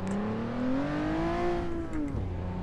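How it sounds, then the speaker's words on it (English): A race car engine in the video game Assetto Corsa revs and climbs in pitch through the gears, a smooth whining roar that dips briefly near the end before rising again. "this car sounds awesome"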